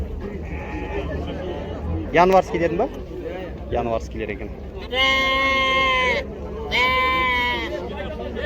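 Lambs of mixed sex, four to five months old, bleat in two long, loud calls at the Karabulak livestock market, with a shorter cry earlier, over steady crowd chatter and people talking nearby.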